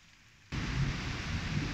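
Heavy thunderstorm rain bursts in suddenly after a brief quiet moment, becoming a dense, steady roar of downpour hitting surfaces outdoors at night, with low rumbling underneath.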